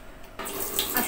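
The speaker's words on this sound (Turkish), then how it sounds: "Tavaları elimde yıkayayım." Tap water runs into a kitchen sink while pans are washed by hand, a short bright splashing gush that starts abruptly and continues steadily.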